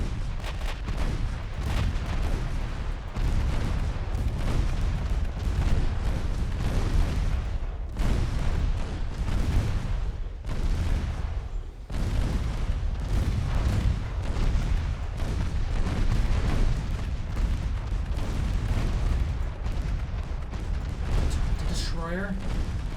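Naval gunfire in the video game Ultimate Admiral Dreadnoughts, as destroyers shell a battleship: continuous booming cannon fire and dull explosions rumbling throughout, with someone speaking over it.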